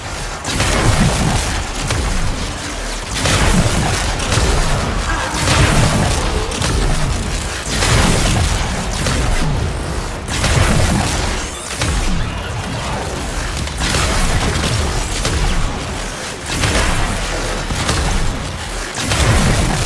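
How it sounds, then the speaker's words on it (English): Repeated explosions from Warframe combat, loud booming bursts arriving in rapid succession over about twenty seconds, dense and continuous with no talk. "It is actually a bit easy to get lost in the explosions."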